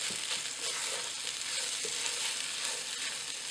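Boiled potatoes being stirred into fried onions and spices in a hot pan, a steady close sizzle with scraping stir strokes throughout, no talking.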